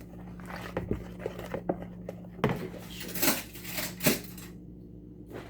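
A spoon mixes bread pudding mixture in a bowl, giving irregular clinks and scrapes against the dish with a few sharper knocks, close and fairly loud, no talking.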